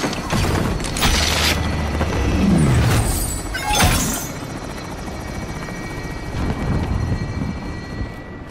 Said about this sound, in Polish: helikopter odlatuje z depozytem na pokładzie